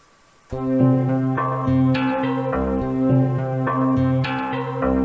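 A Korg wavestate synthesizer plays a steady, repeating bass sequence from Donkey Kong Country, with bright harmonic tones layered on top, loud and continuous with echoing reverb.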